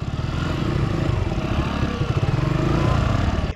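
Suzuki Gixxer and Bajaj Platina 100cc motorcycles race on sand, their engines giving a steady loud rumbling drone with rapid low pulsing throughout.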